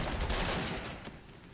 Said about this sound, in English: That's artillery